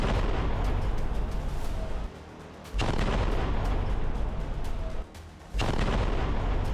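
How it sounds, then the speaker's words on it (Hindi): Heavy bombardment in Gaza sounds as a dense, loud, continuous roar of blasts and rumbling, broken by two brief quieter gaps before the barrage resumes. "इसीलिए आईडीएफ यहां भीषण बमबारी कर हमास की कमर तोड़ रही है।"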